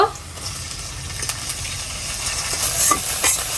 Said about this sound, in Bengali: এখন চিংড়ি মাছগুলা দিয়ে দিব